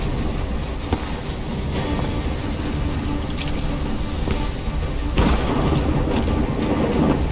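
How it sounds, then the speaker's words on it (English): Thunderstorm with steady rain in Call of Duty Black Ops III, a superstorm setting with waves: dense continuous rainfall hisses throughout while several thunder cracks and low rumbles break through, one sharp near the start and a heavier roll late on. "Incoming superstorm too strong. Storm's only gonna get worse."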